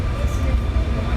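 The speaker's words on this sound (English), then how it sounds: "This is somewhat of a slow train, but then they all are" A slow passenger train leaving Milan, Italy, rumbles steadily along the rails, heard from inside as a continuous, fairly loud low roar.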